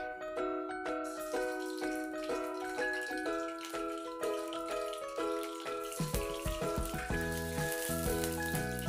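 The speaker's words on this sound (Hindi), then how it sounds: "अब हम तेल में अंडे को अच्छे से फ्राई कर लेंगे।" Eggs fry in oil in a pan for a dhaba-style egg curry. A soft sizzle swells into a fuller, steady hiss over the last few seconds beneath louder background music.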